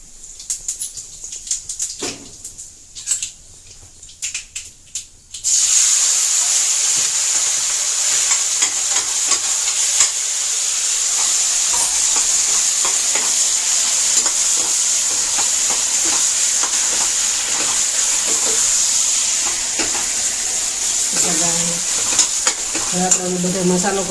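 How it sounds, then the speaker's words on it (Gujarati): A Gujarati tempering for brinjal bharta crackles and sizzles loudly in hot oil, with a continuous hiss and occasional stirring after a quieter start with a few clinks. "અહીંયા આપણે છે ને વઘાર કરવા મૂકી દીધો છે."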